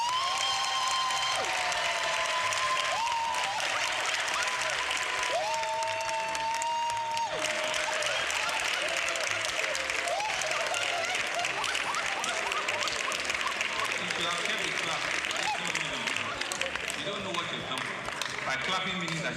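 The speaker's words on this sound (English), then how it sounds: "Clapping means that she's going to work twice as much." A large audience claps continuously in applause, a broad steady wash of hands, with people's voices and sustained tones carrying over it throughout.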